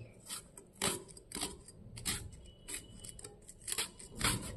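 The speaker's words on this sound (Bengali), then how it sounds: "এবার আমি একটুখানি বাঁধাকপি রেখে দিয়েছি, ধুয়ে তারপর কাটছি।" Cabbage being sliced finely with a knife on a board, a series of crisp, irregular cutting strokes and scrapes, fairly close and quiet, with no one talking.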